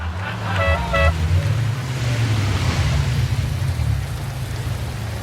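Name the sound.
car horn honk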